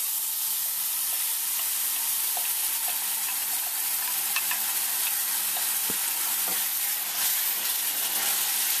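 Tomato with ginger garlic paste frying in a pan over medium heat, a continuous bright sizzle and hiss, close and steady, with a few faint clicks of stirring and no voices.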